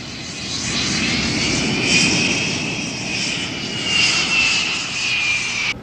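Jet aircraft landing on a carrier deck with a tailhook arrested landing, a loud steady engine roar with a whining high tone that swells and eases, close and continuous throughout.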